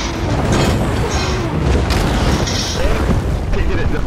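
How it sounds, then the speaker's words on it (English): A siege catapult firing during a PvP resource defense battle in Elder Scrolls Online: heavy booming impacts over a constant loud rumble of combat noise, with voices mixed into the clamor. "Somebody come shoot my catapult."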